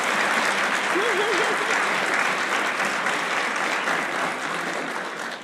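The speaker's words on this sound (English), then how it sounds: "let's just applaud them" Steady, dense applause from an audience at an Alpha Lambda Delta honor society event at GSU, sustained for several seconds before tapering slightly toward the end, with a brief voice heard over it early on.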